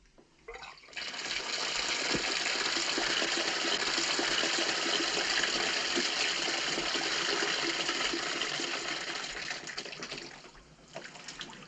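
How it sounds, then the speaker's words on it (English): A bathtub tap runs steadily for about ten seconds, a loud, continuous rushing of water filling the tub that starts abruptly and eases off near the end. "the bathtub tap was running"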